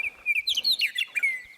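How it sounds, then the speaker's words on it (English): Bird song in South Dakota: a clear run of high chirps and warbled tweets that rises and falls over a second and a half, close and fairly loud with no talking. "It gives me so much hope to hear the Jesus bird."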